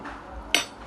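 A spoon stirring water and dish soap in a glass gives a single sharp clink against the glass. It stands out over a quiet, soft background.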